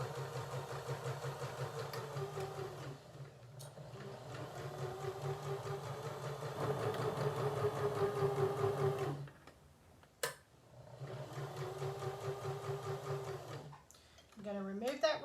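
A sewing machine stitches fabric slowly around a corner, a steady mechanical whir with a fine rhythmic tick, pausing briefly twice before running on, with someone talking over it.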